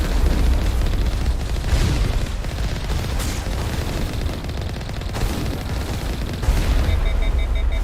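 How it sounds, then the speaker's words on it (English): Rocket launcher explosions in the game Mass Effect, a dense, loud barrage of booming blasts and gunfire that continues without pause, with several sharper impacts standing out. "They have rocket launchers."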